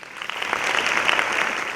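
Audience applause for teachers at an academic talk, a short swell of clapping from a group that builds quickly and holds steady, moderately loud, lasting under two seconds.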